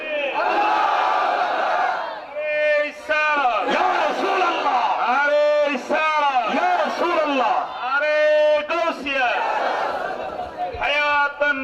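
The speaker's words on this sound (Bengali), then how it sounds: "একটা স্লোগান দেন জোরে জোরে" A large crowd at a Bengali religious gathering loudly chants a religious slogan in unison, with repeated bursts of many voices rising and falling in a steady call-and-response rhythm.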